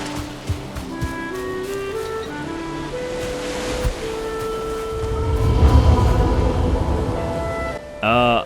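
Ocean surf washing steadily in the game Valheim, a broad rolling wash that swells louder midway, with a few soft tones and a brief rising whistle near the end.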